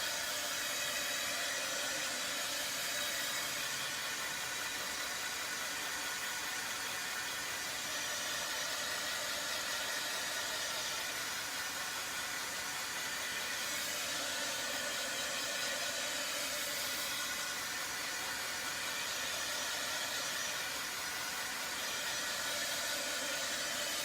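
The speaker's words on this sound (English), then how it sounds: "And now I'm going to bring in my heat tool," A heat tool blows a constant, loud, hissing rush of air for the whole stretch while drying fresh stencil paint, with no pauses or talk.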